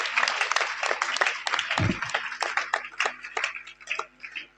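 A school audience at a motivational seminar claps for their teachers, a dense burst of close, uneven clapping that carries on throughout.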